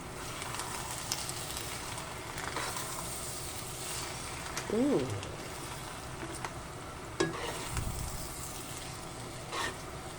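Buttered carbonara with cheese and salted eggs being stirred in a pan, a steady crackling sizzle with scraping strokes and a few sharper clacks of the utensil against the metal.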